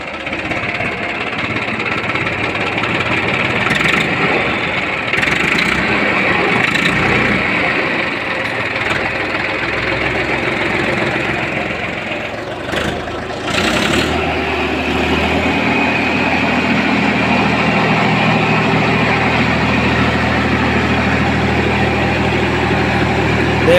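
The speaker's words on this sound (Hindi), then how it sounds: "ट्रैक्टर होगा स्टार्ट, आवाज़ सुन लो।" A 2005-model Mahindra tractor engine runs at a steady idle for about 24 seconds, close and loud, with a continuous low diesel rumble, a brief dip and restart-like change midway, and voices talking over it in rural Meerut.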